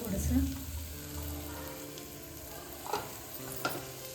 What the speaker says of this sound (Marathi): याच्यामध्ये मी खडा मसाल्याची पेस्ट पावडर बनवली ती टाकते